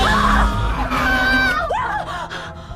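A woman screams in panic as a horror-story sound effect, loud shrill wails that rise and fall in several bursts over a background murmur.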